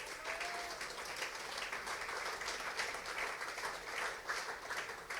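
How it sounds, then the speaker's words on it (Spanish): A church congregation claps steadily during a Spanish-language Sunday school service, a dense, even wash of applause filling the whole stretch without a break. "Denle un aplauso al Señor."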